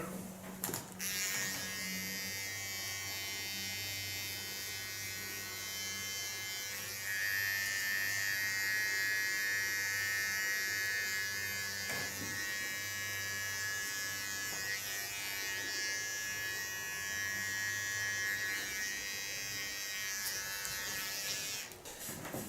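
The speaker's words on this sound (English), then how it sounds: "clean the contour line. go to my small clipper." Small electric hair clipper trimming the contour line of a short pixie cut, a steady close buzzing hum running almost unbroken, with a slight pitch shift as the blade meets hair.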